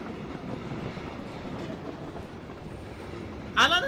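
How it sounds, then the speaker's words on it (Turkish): A train rolling past in the PUBG video game, a steady low rumble with faint rhythmic clatter at moderate distance, ending with a brief burst of a higher, harsher noise. "Bu tren nereye gidiyor?"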